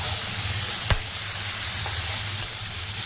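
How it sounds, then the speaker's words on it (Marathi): Spring onion sautéing in a pan for brinjal bharit, a continuous loud hiss of frying with a low hum beneath and a couple of sharp spatula taps. "पातीचा कांदा आहे तो टाकायचा कांदीचा पातळ टाकून झाला तर थोडा मोठा ठेवायचा आणि त्याला परतून घ्यायचं"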